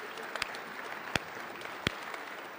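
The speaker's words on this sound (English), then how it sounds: "Let's clap for them." Audience applause for students at a school fall awards ceremony, a faint, steady patter of clapping with a few sharper, louder claps standing out.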